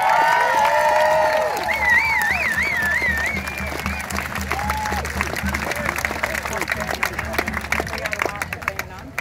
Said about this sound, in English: Give the kids a clap,